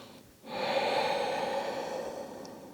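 A single long, audible breath through the nose during a gentle yoga forward fold, close and soft, sustained for about two seconds after a short pause.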